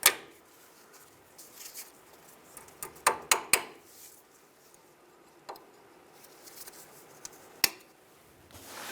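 Side cutters snip the metal tabs of a steering rack bellow clamp on a 2005-15 Nissan Xterra, giving a few sharp close clicks and snaps, a cluster near the middle and one later, over quiet background.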